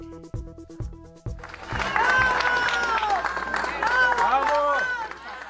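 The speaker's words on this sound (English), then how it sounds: "People cheering at first responders in Venezuela as they carried an injured man out on a stretcher" Bystanders in Venezuela cheering and clapping for first responders carrying an injured man on a stretcher after back-to-back earthquakes, a burst of shouts and applause rising after a few sharp knocks and holding loud to the end.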